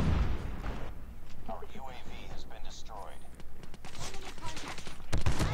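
Shotgun blasts in COD Mobile, the HS0405 being fired in a match, several sharp bursts among game effects with a voice talking over them.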